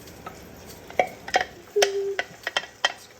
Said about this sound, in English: Okay, we're adding the milk, which actually have a little bit of cream in there to really richen it up.